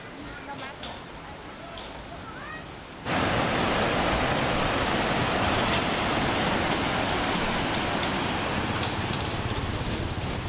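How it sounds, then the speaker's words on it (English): Soft rain falling among rice paddies in Sapa, Vietnam: a quiet outdoor bed with faint chirps gives way abruptly to a loud, steady wash of rainfall noise that continues evenly to the end. "walking in the middle of all the rice paddies with the sound of soft rain and crickets"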